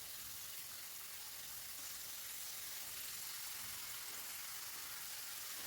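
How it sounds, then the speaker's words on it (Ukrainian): Steady, dense sizzling of khrustyky dough pastries frying in plenty of hot oil, continuous and fairly close, with no talking. "і одразу вони смажаться"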